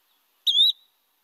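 Single short Empidonax flycatcher call, a thin rising 'twee' note resembling a clipped eastern pewee call, clear and isolated against silence, lasting about a quarter second.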